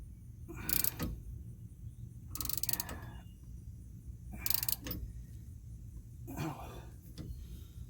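Ball joints being pressed on a 1997 Jeep Wrangler, four bursts of squeaking, ratcheting mechanical strain spaced a few seconds apart over a low steady hum, with a person talking in between.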